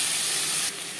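Chopped onions frying in hot oil in a wok, a dense close hissing sizzle that drops slightly in loudness partway through.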